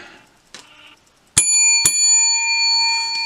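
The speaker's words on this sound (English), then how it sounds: "Gonna be a lot of bells rung today" A bicycle bell rung twice in quick succession, each sharp metallic ding ringing on with a long sustained tone, heard close and loud after a quiet stretch of faint rustling.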